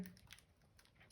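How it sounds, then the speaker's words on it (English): Keys tapped on a calculator while working out a geometry problem, a quiet spread of light clicks and taps that ends in one sharper, louder click. "typing that into our calculator"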